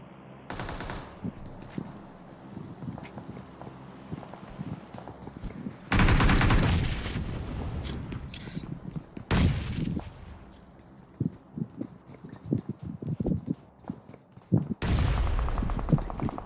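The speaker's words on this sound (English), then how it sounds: "More nades are being thrown in from all sides, from all directions right now." Gunfire and grenade blasts in a PUBG Mobile esports semi-final match: loud rapid bursts and sharp explosions, with heavy blasts around six, nine and fifteen seconds amid scattered shots.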